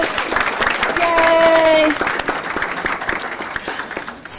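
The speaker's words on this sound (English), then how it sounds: "let's give everybody another quick round of applause" An audience at a school board meeting breaks into a short round of clapping that swells and then tapers off, with a voice cheering over it and talk close by.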